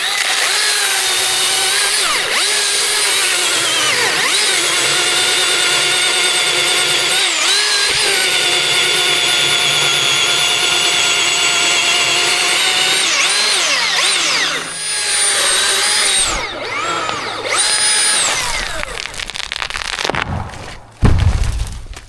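Milwaukee Fuel brushless M18 battery chainsaw with XC8 8.0 batteries cutting a tall dead pine, a loud sustained motor whine that bogs slightly under load, then winds down with cracking and a heavy thump near the end.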